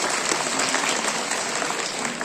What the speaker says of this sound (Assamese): আমি সকলোৰে পৰা এটি হাত চাপৰি বিচাৰিছোঁ